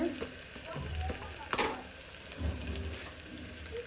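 Ginger garlic paste and cumin powder fry in a pan of oil for chole, a soft steady sizzle with a few louder spatters and stirring clinks close by.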